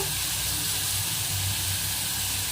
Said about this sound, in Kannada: ಇದು ಸ್ವಲ್ಪ 1-2 ನಿಮಿಷ ಹಿಂಗೆ ಫ್ರೈ ಆಗಕ್ಕೆ ಬಿಡಬೇಕು